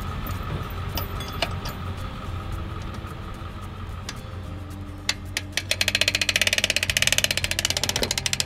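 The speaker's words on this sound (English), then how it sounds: "We'll just unhook our safety chain." Safety chain being unhooked from a Cutwater 242 Coupe boat trailer, a few metallic clinks and rattles over a steady idling engine hum, with a quick run of close, rhythmic clicking near the end.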